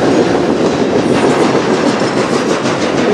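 Loud, close rolling of a short CN freight train passing in Sarnia, Ontario, with continuous rumble and rhythmic clacking of wagons over the rails.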